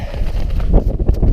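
Winter wind on a snowy Pendle Hill summit buffets the microphone in a loud, low, gusty rumble throughout the brief moment, with no talk.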